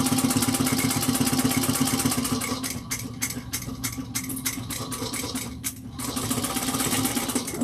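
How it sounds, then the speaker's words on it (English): A sewing machine back stitches a bowler bag, its needle running in a steady, fast mechanical chatter up close and loud, briefly slowing with a few separate thumps in the middle before picking back up to full speed. "back stitch."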